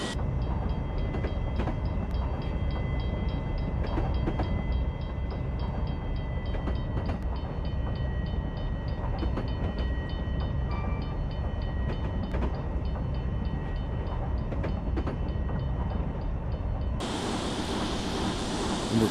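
An R-Class train in the Virtual New Haven Railroad simulator runs at full throttle out of Meriden, a steady loud rumble with scattered track clicks, and the tone shifts abruptly near the end.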